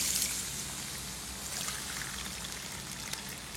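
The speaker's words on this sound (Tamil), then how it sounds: "1 கப்பு ரவைக்கு 2 கப்பு தண்ணி ஊற்றணும்" Water pours steadily into a cooking pan for rava upma in a continuous splashing stream, close by and moderately loud, with no talking.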